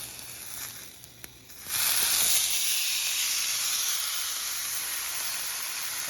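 Flank steak dropped onto a hot, smoky skillet: near-quiet at first, then a sudden loud hissing sizzle that holds steady and close for several seconds.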